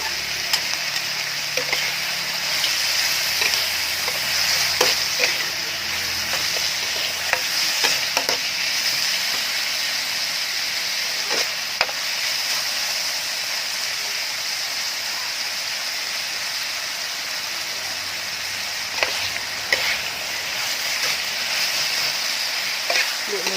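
Bitter melon stir-fried with chicken egg and shrimp sizzles steadily in a hot pan, with repeated scraping and stirring clatters over a continuous frying hiss.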